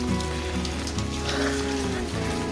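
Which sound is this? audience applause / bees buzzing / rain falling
rain falling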